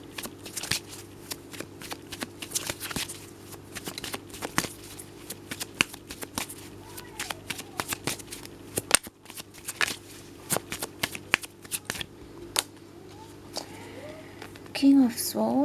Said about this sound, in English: Let's shuffle and get one.